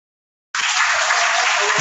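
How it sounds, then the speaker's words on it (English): After a presentation at a virtual exhibition, applause cuts in abruptly following half a second of silence, then holds as a loud, dense wash of many hands clapping without pause. "Let us give a round of applause"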